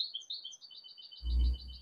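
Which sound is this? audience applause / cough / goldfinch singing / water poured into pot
goldfinch singing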